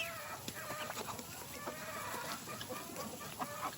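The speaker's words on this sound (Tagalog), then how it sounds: "Nalahian ng ano, ng Peking duck." Ducks crossbred with Peking duck call and chatter faintly in the distance, a scattering of quick quacks over a steady background hiss.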